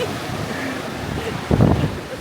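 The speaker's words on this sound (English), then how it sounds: "It's windy." Strong wind buffeting the microphone on an exposed hiking trail near a viewing platform at Seneca Rocks, West Virginia, a steady roaring rush with a louder gust near the end.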